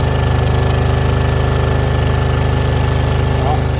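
A Shindaiwa 2500MP super-silent generator runs under load with a steady, close, continuous engine drone and an even low throb that holds constant throughout.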